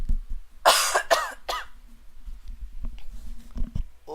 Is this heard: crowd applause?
no